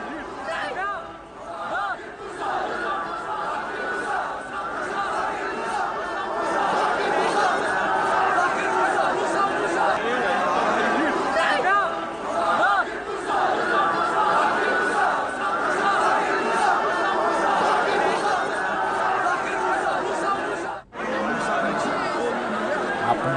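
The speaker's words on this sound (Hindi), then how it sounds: "आप नारेबाजी में भी सुन सकते हैं कि भीड़ में जो नारेबाजी हो रही है उसमें आतंकी मूसा का नाम लिया जा" An angry crowd chanting slogans, a dense continuous roar of many voices at fairly close range, steady and unbroken for the whole stretch with only a brief dip near the end.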